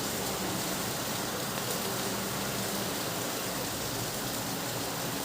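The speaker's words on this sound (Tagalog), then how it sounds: "Ang lakas ng ulan." Heavy rain pours down in a dense, constant hiss, loud and unbroken throughout, with no voices.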